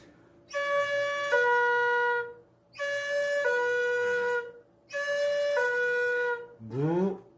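A Korean bamboo danso flute plays three long sustained tones, each stepping down to a lower note partway through as a finger hole is covered, followed by a short rising slide.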